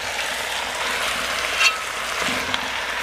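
Food sizzles in a little olive oil in a pan, a continuous soft frying hiss with a brief louder crackle partway through.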